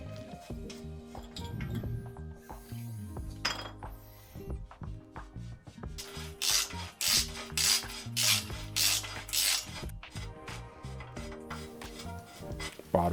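Worn, gritty bottom bracket worked out of a 90s Trek Antelope mountain bike frame with tools, giving close grinding, scraping and rasping metal sounds in irregular bursts with some clanks, and no talking.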